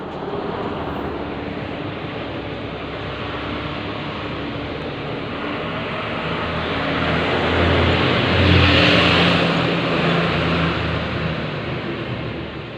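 A vehicle exhaust fitted with a silencer runs at a steady low rumble. It swells briefly louder near the middle and then settles back, heard alone outdoors with some wind.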